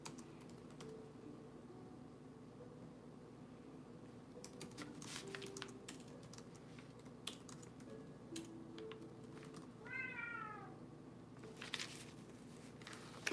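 A house cat gives one brief, faint meow partway through, over a low constant hum and frequent soft keyboard-like clicks and taps.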